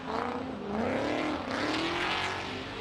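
Pro2 drift cars at Formula Drift Atlanta, with a loud nearby engine roaring and sweeping through rising and falling revs as the car slides, tire noise mixed in, no speech.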